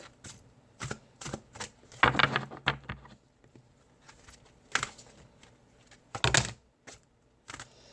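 Crisp bursts of tarot cards riffling and slapping together, several quick shuffles in a row, close up and fairly quiet with brief pauses between.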